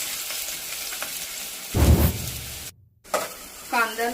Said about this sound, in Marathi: आता मस्त लाल होईपर्यंत कांदा परतून घ्यायचा आहे